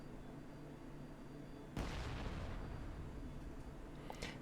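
An armored BTR vehicle explodes in the DCS Combined Arms combat game, a single sharp distant blast cutting through steady engine rumble, followed by a decaying rumble and crackle.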